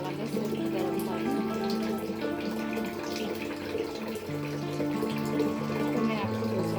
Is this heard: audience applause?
no